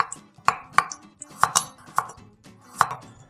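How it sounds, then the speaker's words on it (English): A kitchen knife scraping the skin off a piece of ginger, several short, crisp scrapes and taps in an irregular rhythm, close up with no talk. "Just gonna use my knife to get rid of the skin from the ginger."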